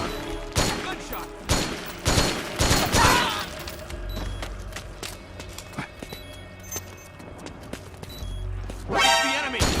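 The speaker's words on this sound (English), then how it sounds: "Gunshot." Gunfire in the video game Metal Gear Solid 4, with sharp bursts of shots in quick succession, heaviest early on and again at the end, mixed with game effects and voices.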